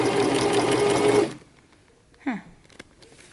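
Home sewing machine running during a stitching test while troubleshooting bunched, skipped stitches, a loud steady motor whir for just over a second that stops abruptly, followed by quiet handling noises and a brief voice.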